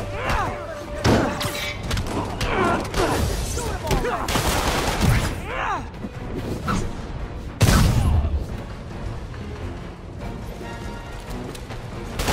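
Gunfire in the video game Marvel's Spider-Man on PS4, rapid bursts of shots and heavy impacts and thuds mixed with combat noise, with voices shouting through the action.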